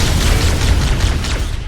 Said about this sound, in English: Now you can actually stick these guys with plasma grenades.